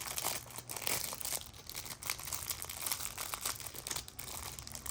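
Packing foam from a bone conduction headphone box being handled, a continuous close-up crinkling and rustling that runs steadily throughout with no talk.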